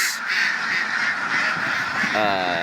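Many ducks at a duck farm holding around 700 females and 80 males, giving a dense, continuous chorus of quacks and honking calls close by, with a few louder calls standing out near the end.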